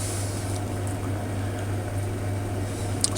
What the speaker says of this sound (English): it's now boiling